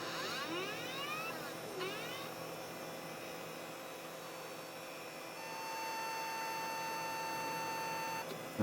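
An older Pentium Pro computer, with a jumper just refitted, gives a long steady electronic beep over a constant machine hum, preceded by a few quick sweeping chirps.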